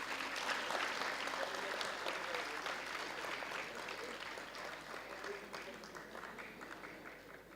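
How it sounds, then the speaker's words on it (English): Students at a university degree award ceremony in Chandigarh give a long round of steady applause that fills the hall, easing slightly toward the end, with a faint voice beneath it. "Keep clapping, dear students."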